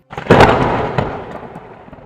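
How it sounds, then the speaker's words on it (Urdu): A heavy thunder crack follows lightning over a desert in an animated story, with one sudden loud burst that rolls and fades away over about two seconds. "دوسری بار بجلی چمکی تو پہلے سے زبردست کڑک پیدا ہوئی"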